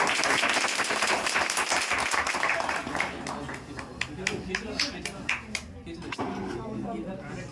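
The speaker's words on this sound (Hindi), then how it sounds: "सब ताली बजाइए" An audience clapping at a Republic Day celebration, dense applause at first that thins to scattered individual claps, while a voice talks over it.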